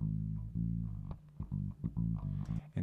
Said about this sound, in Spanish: el bajo sin procesos suena así.